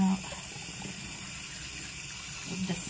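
Water drains out of a sink during hair washing, a steady soft gushing and trickling that runs the whole time at moderate level with a faint voice near the end.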